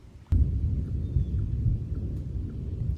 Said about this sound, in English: Or it is thundering